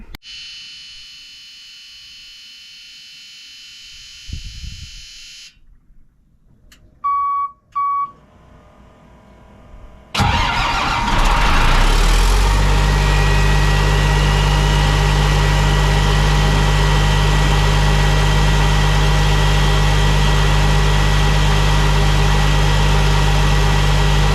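An engine on a machine cranks and starts after a few quiet beeps, then settles into a loud, steady idle that runs on at an even drone while it warms up.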